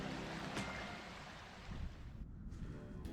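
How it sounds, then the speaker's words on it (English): A stream running south toward the River Witham beside a village road in Bucknall, heard as a steady broadband wash of flowing water, fairly faint, with some wind noise and a brief knock near the start. "you may hear the sound of running water. It's this stream flowing south into the River Witham"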